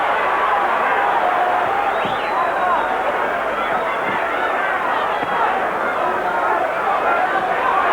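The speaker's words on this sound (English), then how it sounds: "The crowd reacted to that." Arena crowd at the Evander Holyfield vs Riddick Bowe heavyweight title rematch, a steady roaring hubbub of thousands of spectators that swells slightly in reaction, with voices mixed throughout the dense background din.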